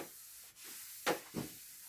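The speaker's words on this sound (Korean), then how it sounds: "나머지 좀 지우자 이것을 지우고" Eraser wiping writing off a board during an electromagnetics lecture, two short, close rubbing swipes separated by a brief pause over quiet room tone, with no talking.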